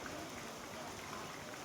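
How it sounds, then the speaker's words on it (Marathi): Heavy unseasonal rain pours on the city of Yavatmal, heard as a dense, even, steady hiss of downpour that continues without pause and with no voices. "यवतमाळ शहरात अवकाळी पावसाची जोरदार बॅटिंग"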